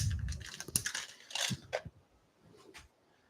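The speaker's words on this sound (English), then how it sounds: "Glass bearing going in there." A glass bearing is pressed into the base of a handmade heirloom Christmas carousel, giving a burst of close, crunchy clicks and scrapes that trail off into quiet handling noise.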